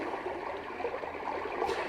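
Flowing brook sound from a Roffie N500 sleep sound machine: a steady, even wash of trickling water, soft and continuous at close range with no voices.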